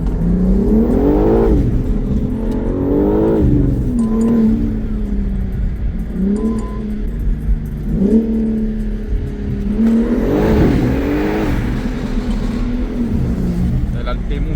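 A 700 hp BMW M4 CSL revs hard while drifting, its engine note rising and falling in repeated surging sweeps, loud and close, with brief whirs between the pulls.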